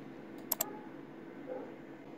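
Two quick, close mouse clicks on a computer while downloading the Windows DroidCam client, sharp and distinct over a faint room hiss, followed by quiet background noise.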